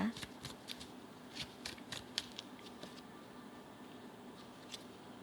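Tarot cards being shuffled for a zodiac reading give a run of soft papery riffles and flicks, closer bursts at the start and then fainter ones over a low steady room hum.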